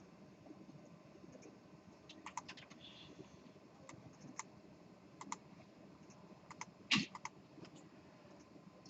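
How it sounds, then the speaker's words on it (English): Several students in a programming lecture room type on computer keyboards, giving scattered soft key clicks and short bursts. A sharper clatter comes near the end over a quiet room hum. "I see some hands still typing."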